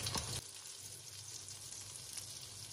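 Pan-fried dumplings made with hot-water dough sizzle steadily in oil over medium-low heat, a close, continuous hiss with a brief louder burst at the start.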